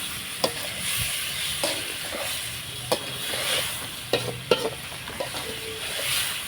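Green chillies and garlic sizzle in hot oil in a pan, a steady crackling hiss broken by sharp clicks and scrapes of stirring, fairly quiet and with no voices.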